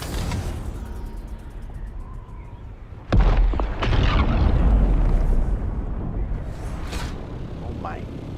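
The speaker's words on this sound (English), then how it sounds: "Spice explosion, I almost flew into it." A spice explosion in the video game Dune Awakening lands as one sudden heavy burst midway through, followed by a loud rumbling roar that slowly fades back into quieter game ambience.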